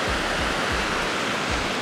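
Ocean surf on a Barbados beach: a steady, loud broadband wash with low rolling surges of breaking waves about every half second to a second, close by, with no voices.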